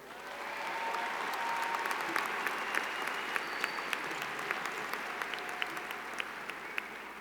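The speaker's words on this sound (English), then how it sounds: "Let's give them another round of applause." Sustained applause from a graduation commencement audience, a dense wash of many hands clapping steadily for the full stretch with scattered sharper claps standing out, moderately distant and without speech.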